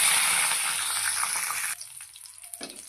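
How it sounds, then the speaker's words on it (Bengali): Mustard seeds splutter in hot mustard oil with dried red chillies and bay leaves, a loud close sizzle that drops off sharply partway through, leaving faint crackles. "সর্ষেটা ফোড়ন দিলাম"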